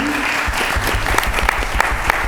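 Loud, steady applause from a crowd at a school district board meeting, many hands clapping together continuously from start to finish.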